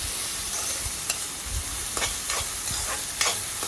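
Chopped ginger and green chillies hiss loudly in hot oil while a spoon stirs them through, producing several scraping strokes over a constant frying sizzle.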